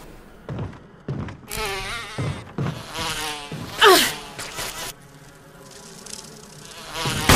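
A swarm of bees buzzes in Resident Evil HD, their whining drone rising and falling close by between dull thuds and clatter of the game.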